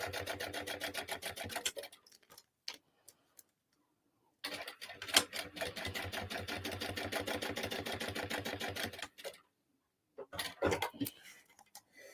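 A home sewing machine stitches a crossbody bag in fast, steady mechanical runs of needle ticks, quiet and close, stopping and starting in several bursts with gaps between.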